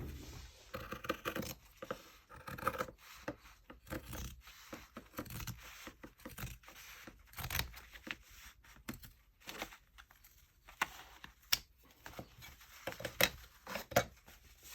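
Fabric scissors cutting apart a journal, with irregular snips, rustles and small clicks, close and quiet, in uneven bursts throughout.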